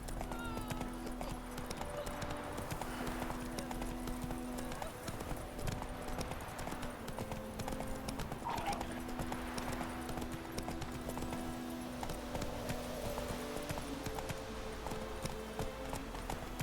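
Roach the horse in The Witcher 3 walks with a steady clip-clop of hooves at moderate distance, the rhythmic hoofbeats continuing throughout over a layer of ambient music and background game sound.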